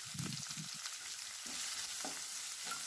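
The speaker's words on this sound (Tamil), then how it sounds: "அதை இதில் சேர்த்துட்டு நல்லா வதக்கிக்கலாம்" Curry leaves and two finely chopped onions sauté in a pan with a soft, quiet frying hiss, and several short low scraping stirs come at irregular intervals, close up with no talking.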